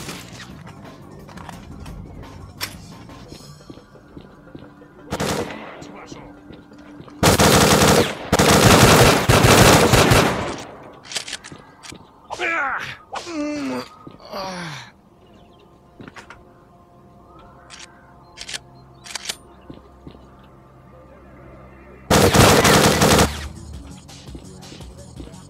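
Video game gunfire in S.T.A.L.K.E.R.: Clear Sky, scattered single shots followed by loud sustained automatic bursts, with mechanical clanks, creaks and a whining sweep between the volleys.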